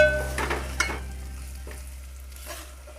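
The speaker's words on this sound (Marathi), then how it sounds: "आता आपण हे मिक्स करून घेऊया।" Spicy misal with homemade red chilli powder being stirred and mixed in a hot pan, a few scraping strokes early on, then fading to a low sizzle with one more faint stir, no talking.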